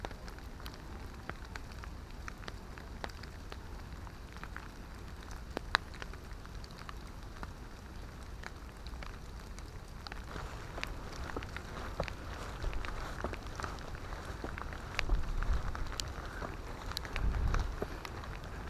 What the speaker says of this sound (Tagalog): inabutan kami ng ulan. Hindi ako makapag-video ng maayos. Nababasa yung camera ko.